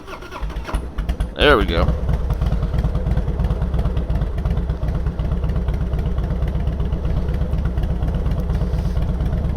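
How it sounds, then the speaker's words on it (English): A Harley-Davidson Fat Boy motorcycle in Road King style cranks and catches, then settles into a loud, steady, lumpy idle with a rapid regular chop; someone speaks briefly as it fires. "to let you go and hear what that little idle sounds like"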